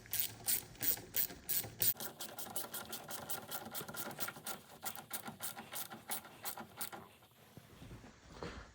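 A hand ratchet clicks rapidly and steadily while tightening intercooler hose clamps on a Mitsubishi Pajero with a 4M40 or 4D56 diesel engine, close and fairly quiet, stopping shortly before the end.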